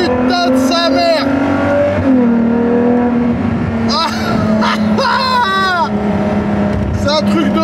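A Ferrari Monza SP V12 driving at speed, its engine a steady droning hum that rises and settles, heard from inside the open cockpit with wind rush while someone talks over it throughout.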